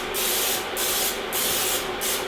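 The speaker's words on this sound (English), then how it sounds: "I'm going to go ahead and take my 9x13 Pyrex and give it a spray." Four short bursts of cooking spray hiss onto a 9x13 Pyrex glass baking dish in a steady rhythm, close and loud, with no talking.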